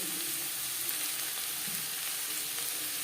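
Onions fry with salt and turmeric in a pan for a Bengali sar puti fish curry, giving a steady, close crackling sizzle throughout with no talking.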